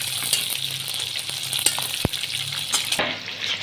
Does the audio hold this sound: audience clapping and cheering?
no